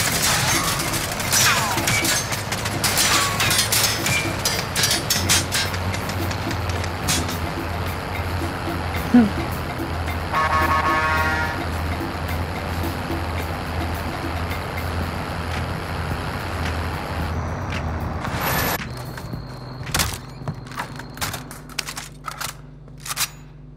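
Engine drone of a vehicle being driven in a combat video game, a steady low rumble running throughout with game effects and bursts layered on top, ending in a loud impact.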